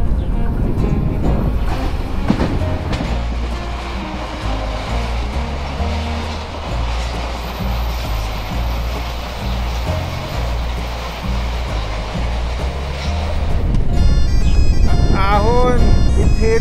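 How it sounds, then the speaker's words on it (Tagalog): A train passes along a seaside rail line near a fishing spot on a cycling route to Ruifang in Taiwan, a loud sustained low rumble with rhythmic wheel clatter, and a voice shouts near the end as it fades. "May train!"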